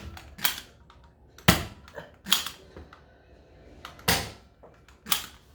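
A Nerf toy blaster fires about six sharp, close snaps at irregular intervals, with faint handling clicks between the shots.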